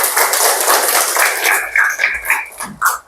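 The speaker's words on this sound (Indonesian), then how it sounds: "Tepuk tangan buat kita semua." A classroom of students bursts into dense, steady clapping during a lesson, a loud, close wash of hand claps that thins out toward the end, with a little voice mixed in.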